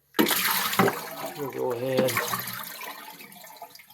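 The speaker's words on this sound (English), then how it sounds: "and dump the bucket" A bucket of water from a Glacier Bay toilet repair dumped out, a sudden splash and gushing pour that gurgles and fades over several seconds, close up, with someone speaking at the start.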